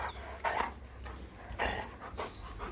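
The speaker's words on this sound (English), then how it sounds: "But the dogs are all around here." Dogs pant and shift about nearby as they lounge at an animal park, with several breathy bursts of panting spread across the moment over a steady low background rumble and no talk.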